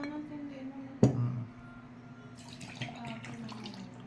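Syrup is drained from canned kaong and nata de coco for a buko salad: a single clunk of the container, then a faint, soft trickle and splash of liquid.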